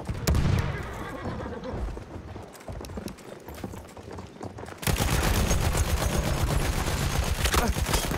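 In the Battlefield 1 multiplayer game, a horse whinnies and gallops with rapid hoof clip-clops amid bursts of gunfire, loud and busy before a denser stretch of hooves and battle noise.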